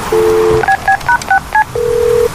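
A short tone sounds, then a quick series of electronic keypad beeps dialing a number, followed by a steady dial tone.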